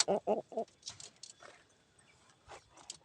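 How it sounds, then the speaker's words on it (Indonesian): A Pelung chicken, a crossbred rooster and hen setup on an Indonesian farm, lets out three loud clucking bursts up front, then softer scattered clucks and calls fade in and out, with no talk. "Ini ayam pelung,"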